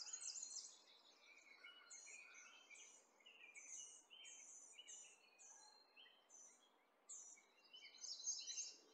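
A crow calls outdoors amid a steady stream of high chirps and tweets from birds, repeated calls coming one after another at moderate distance with no voices.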